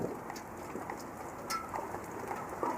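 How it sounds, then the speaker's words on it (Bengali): Light rain falling steadily after a night of rainfall, a soft continuous patter with a few faint bird calls, all quiet and distant. "এখনও কিন্তু গড়ি গড়ি বৃষ্টি হচ্ছে"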